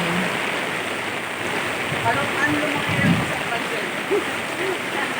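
Steady typhoon rain pours with rushing floodwater all around, a dense wash of noise, with faint voices and splashes mixed in.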